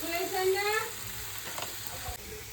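Chilli and coriander powder sizzling in a pan over a lowered flame, a steady close crackling fry with a spoon scraping, and a voice speaking over the start.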